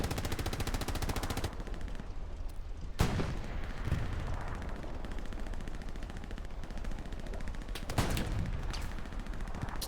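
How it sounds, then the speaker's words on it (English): Continuous gunfire from the Hell Let Loose video game at Utah Beach, a dense steady rattle of rapid shots with a few louder bursts punching through, loud and unbroken throughout, with no voices. "And they're getting shot from the north."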